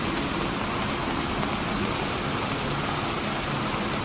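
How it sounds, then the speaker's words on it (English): Steady rain falls on a London street at night, a dense, even hiss of drops on pavement that holds at the same close level throughout, with no voices. "because obviously it's raining"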